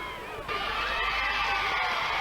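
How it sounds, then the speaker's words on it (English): A large outdoor crowd cheers for Princess Diana during a 1983 royal visit in Bunbury, the roar swelling sharply about half a second in and holding as a steady, broad wash of voices. "Another cheer over to the dais"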